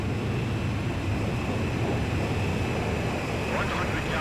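Jet engine roar from a fighter plane approaching a refueling aircraft in the flight game Ace Combat 5, a steady loud drone held throughout with radio voices over it.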